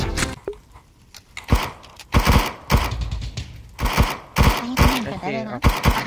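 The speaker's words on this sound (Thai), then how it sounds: "อันนี้ยิงปืนก่อน" Bursts of gunfire in the video game VRChat Infested come in short, loud, irregular volleys with quiet gaps, while a voice talks between and over the shots.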